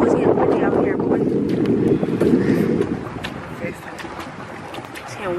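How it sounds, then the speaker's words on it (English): Wind blusters steadily across the microphone while pedal boating on open water, loud and rough for the first few seconds then easing, with voices talking underneath. "It was getting windy out here"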